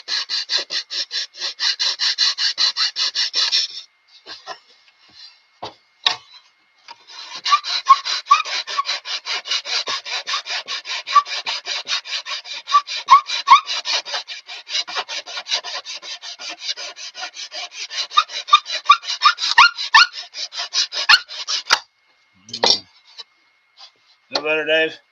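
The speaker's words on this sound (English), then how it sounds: "we can run our saw across the bottom here and nip off the rest of the sheeting" A hand saw rasps through thin sheeting on a model airplane, working in long steady bursts of rapid strokes with brief pauses and a few clicks near the end, close and fairly loud.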